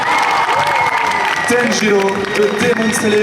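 An audience applauds and cheers at a cosplay contest selection in Montpellier, with a dense crowd clapping under a presenter speaking loudly over a microphone.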